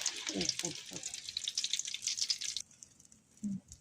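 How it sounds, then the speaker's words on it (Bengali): Egg frying in oil on a flat griddle pan, a close hissing sizzle with crackling spatter that drops away partway through, heard alongside some nearby talk. "তাওয়ার ভিতরে তেল ঢেলে দিলাম, ডিম ভাজা দিলাম"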